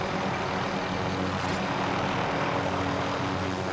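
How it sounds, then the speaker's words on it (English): Helicopter flying in Call of Duty Warzone, a steady, loud broadband engine and rotor roar that holds unchanged throughout with no talk over it. "I'm your pilot. I got the helicopter."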